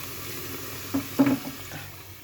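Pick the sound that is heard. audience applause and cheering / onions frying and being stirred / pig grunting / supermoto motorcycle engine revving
onions frying and being stirred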